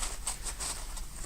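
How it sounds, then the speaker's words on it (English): Paper rustles and crinkles right against a microphone, a rapid series of crisp, scratchy bursts close up with no voices. "I just noticed that I had my paper near the microphone, so I'm so sorry"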